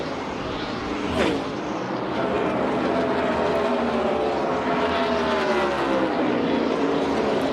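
NASCAR stock cars racing at Kansas Speedway, a loud continuous roar of engines with rising and falling pitch as the pack passes, and a brief sharper whine as one car goes by close.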